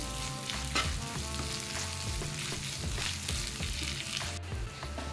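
Ginger paste frying in a pan with garlic while making shakshuka, a steady loud sizzle with soft stirring scrapes throughout, no one talking.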